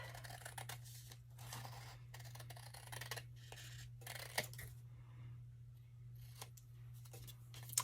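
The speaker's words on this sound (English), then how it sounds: "Took my scissors and just cut right around the tag." Quiet, repeated snipping of scissors cutting around a manila paper tag in short bursts, close up, over a low steady hum, with pauses between cuts.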